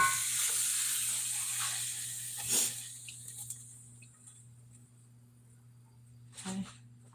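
Egg whites fry in a pan during breakfast, giving a soft, steady sizzle with a constant electrical hum beneath it and a few brief clatters near the middle and end.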